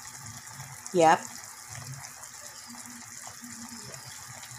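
Two cups of water pour briefly into a pot of adobo in a home kitchen, a short splashing gush lasting about a second, with a quiet word spoken nearby.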